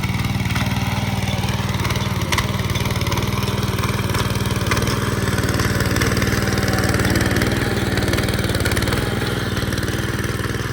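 A tractor engine runs continuously in a farm field where its wheels are being swapped for cage wheels for ploughing, a loud, close, steady mid-pitched chugging drone with no talking over it.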